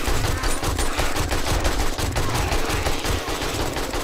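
An AK rifle fires steadily in 7 Days to Die, a zombie survival game: dense, continuous automatic shots, loud and close, with no pauses across the whole stretch.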